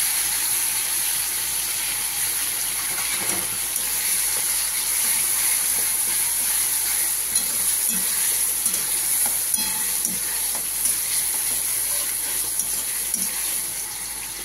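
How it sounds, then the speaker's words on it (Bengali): Onion paste from three ground onions frying in hot oil for a chinri koasar curry, a steady dense sizzle with faint stirring scrapes, close and continuous throughout. "তেলে দিয়ে দেবো পেঁয়াজ বাটাটা"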